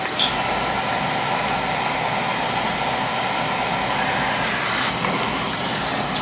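A leaking boiler runs with a continuous loud, broadband roaring hiss like rushing air or burner noise, steady and unbroken throughout, with no speech.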